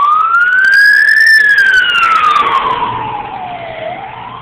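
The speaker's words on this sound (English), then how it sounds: "And behind me you hear sirens." Ambulance siren on a St. Louis street, loud and close, a steady wail sweeping up then gliding down in pitch as it passes and starts to recede, with traffic rumble underneath.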